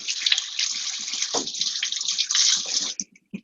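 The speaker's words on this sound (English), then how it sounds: "I do like to rinse my knife off with very, very hot water" A kitchen knife is rinsed under a running tap of very hot water, a steady close splashing stream that stops abruptly near the end, leaving a few scattered drips.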